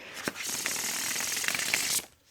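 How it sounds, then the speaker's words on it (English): A deck of cards is riffled in one continuous, fast flutter lasting about two seconds, ending with a soft tap, close by. "this deck just shuffles amazingly too"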